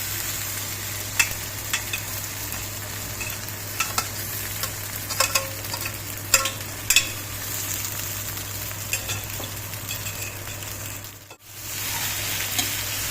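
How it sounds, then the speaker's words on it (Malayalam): Leftover-rice balls sizzle steadily in a pan while a utensil gently stirs and scrapes now and then, soft clicks scattered across a constant low hum. "ഇത് നമുക്ക് ഇത് പൊട്ടാതെ സാവധാനം ഇളക്കി കൊടുക്കാം."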